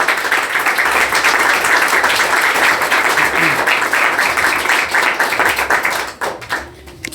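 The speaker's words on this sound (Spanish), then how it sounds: "No sé si le quieren dar una ofrenda de palmas al Señor." A church congregation gives an offering of applause to the Lord: steady, full clapping for about six seconds, then it fades quickly near the end.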